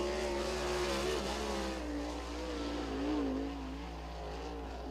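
A sprint race car on the Lincoln Speedway track at PA Speedweek, its engine droning loudly and steadily with a slight rise and fall in pitch as it circles, heard from trackside.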